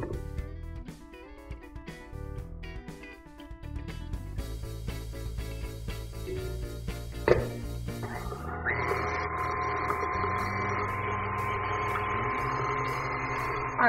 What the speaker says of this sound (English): while that's whisking up in there with the molasses and the brown sugar and the butter